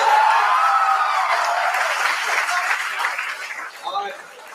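An audience at a college's 65th anniversary function in Dhanbad applauds steadily, with clapping that slowly fades under a voice speaking over it.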